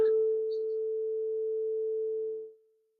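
A steady pure tone from two speakers producing sound interference holds at an even level for about two and a half seconds, then fades away quickly, with nothing else heard.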